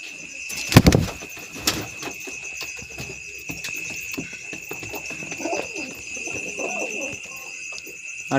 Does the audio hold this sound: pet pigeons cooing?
yes